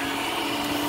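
An Advance restroom cleaning machine draws strong suction through its hose, a loud steady vacuum roar with a whistling tone, heard close and continuous with no talk.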